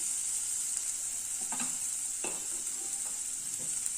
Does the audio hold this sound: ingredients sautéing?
yes